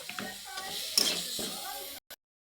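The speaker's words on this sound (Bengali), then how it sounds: "ভালোভাবে নাড়াচাড়া নিয়ে কষিয়ে নেব" Vegetables for banana stem ghonto with pumpkin and potato being stirred and sautéed in a pan: brief scraping strokes over a gentle sizzle, close, before the sound cuts off abruptly into silence.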